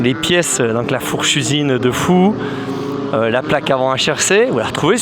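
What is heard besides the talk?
No distinct noise like a dog, phone or traffic.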